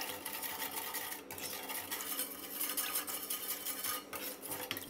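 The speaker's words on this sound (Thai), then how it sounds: "แล้วก็ให้เราคนให้เข้ากันนะครับ" Seasonings for Thai lime pork (salt, sugar, fish sauce, fresh lime juice and MSG) being stirred together in a bowl, giving steady close scraping and clinking of a utensil against the dish with no talking.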